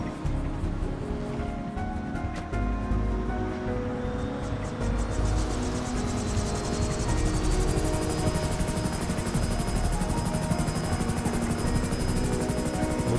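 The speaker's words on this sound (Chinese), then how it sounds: "那我们可以坐直升机上去。" Helicopter in the video game GTA 5 flying toward a mountaintop mansion, a steady loud rotor drone with whining turbine that holds throughout, rising slightly in intensity toward the end, with no talking.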